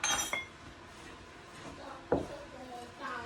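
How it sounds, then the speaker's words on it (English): Spoon scraping and clinking against a bowl while granola oats are stirred with vanilla extract, a few sharp clinks separated by soft scraping, close and fairly quiet. "And then we're just gonna mix that all up."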